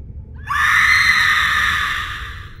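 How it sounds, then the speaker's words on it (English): A long, loud, shrill scream rises sharply and holds for about a second and a half before trailing off, heard close and alone. "You call that a scream?"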